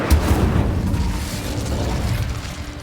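The Incendio fire spell is cast in Hogwarts Legacy as a burst of flame that whooshes and roars with a deep, rumbling blast, then sustains a dense crackling rush for the rest of the moment.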